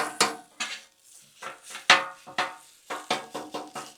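Italian sausage being chopped on a Blackstone griddle, a metal spatula striking the flat steel in sharp scraping clacks at an uneven rhythm, with short quiet gaps between strokes.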